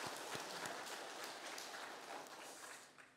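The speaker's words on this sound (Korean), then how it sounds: "우리 그분들 향해서 박수 한번." Faint, steady applause from a church congregation during a Sunday worship service in Seogwipo, a dense patter of many hands that continues evenly throughout without voices.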